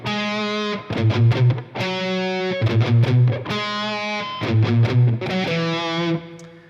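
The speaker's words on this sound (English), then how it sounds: "let me show you the little riff first" The single-note riff plays on a distorted electric guitar, alternating sustained ringing notes with quick, choppy palm-muted picking in a repeating loud, close pattern with no talking.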